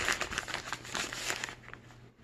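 A plastic bag holding the rubber hose and push-button body from a Sinkingdom Bestill garbage disposal air switch package crinkles close by in quick, dense rustling bursts that fade out at the end.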